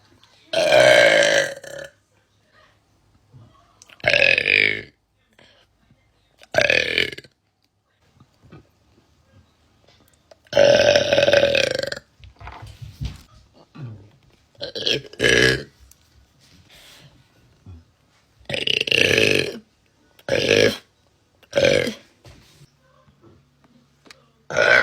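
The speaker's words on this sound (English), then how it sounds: "Burp." Loud, close burps from a woman, repeated about eight times in separate bursts spread across the stretch, some long and drawn out, with short pauses between them.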